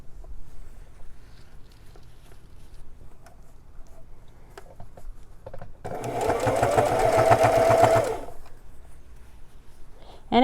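A sewing machine hems a pair of jeans in one loud, steady burst of rapid stitching that lasts about two seconds. It rises out of a quiet room and stops abruptly.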